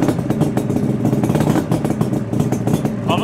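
Newly built two-stroke Martin motorcycle engine running close by, a loud, rough, buzzing rasp with rapid rhythmic firing pulses and metallic clatter held steady throughout.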